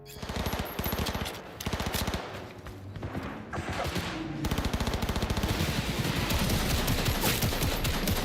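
A gun fires in Cyberpunk 2077 in rapid, steady automatic bursts, loud and close, with rhythmic repeated shots filling most of the stretch and a brief lull in the middle before the firing resumes.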